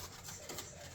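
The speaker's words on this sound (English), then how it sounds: "I'm actually going to sand this portion with 150." Hand sanding steam-damaged wood with 150 grit sandpaper gives a steady, close, dry scratchy rasp that continues without pause and swells slightly in the middle of the stroke.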